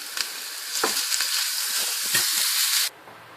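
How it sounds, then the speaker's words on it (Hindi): Butter sizzles and crackles loudly in a small hot tempering pan for dal, a close, steady frying hiss with sharp pops, cutting off abruptly near the end. "अब मैं मक्खन डाल रही हूँ इसमें।"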